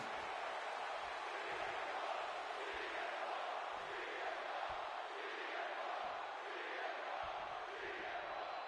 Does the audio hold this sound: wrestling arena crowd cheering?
yes